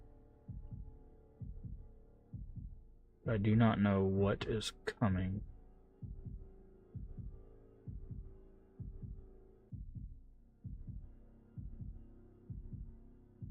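Repeated thudding heartbeat pulses in the horror game Shadow Corridor, steady and fairly loud through the whole stretch, briefly overlapped by a short burst of a person talking.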